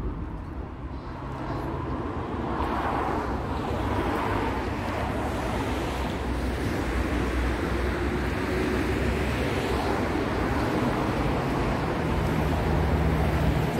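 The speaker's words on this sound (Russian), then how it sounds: "поэтому и такой шум машин." Steady roar of car traffic from a large embankment avenue beside a riverside park, a continuous broadband wash of engine and tyre noise heard from a distance with no clear individual vehicles.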